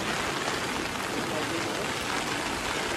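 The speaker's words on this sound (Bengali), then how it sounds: "প্রচণ্ড বৃষ্টি হচ্ছে" Heavy rain pours down on a hillside market street lined with shops in Darjeeling, a steady, dense hiss of water hitting surfaces that fills the scene evenly from start to finish.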